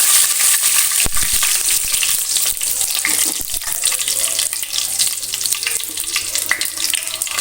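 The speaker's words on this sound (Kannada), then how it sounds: "ಇವಾಗ ಇದಕ್ಕೆ ಕರಿಬೇವು ಹಾಕೋಣ" Curry leaves hit hot oil already holding garam masala spices for a Kundapur-style oyster masala, bursting into a loud, dense crackling sizzle with sharp pops and spoon scrapes that stay intense throughout.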